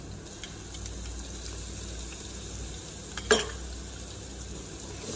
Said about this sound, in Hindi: मिक्स करेंगे इसे हम 2 से 3 मिनट फ्राई करेंगे।